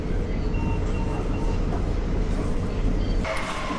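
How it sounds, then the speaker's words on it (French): A Tokyo metro train on the Fukutoshin Line heading toward Shibuya gives a steady, loud interior rumble with a faint higher whine and a brief shift near the end, no talk over it. "On est dans le métro direction Shibuya."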